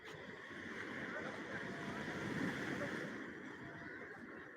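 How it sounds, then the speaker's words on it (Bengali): Sea waves roll in steadily at Digha beach, a broad unbroken roar of surf mixed with wind buffeting the microphone, and faint voices murmur in the background. "এটা পুকুর নয় দাদা এটা সমুদ্র"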